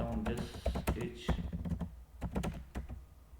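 Keys clacking on a computer keyboard in irregular bursts, close and fairly loud, with a few heavier thunks mixed in and no talking.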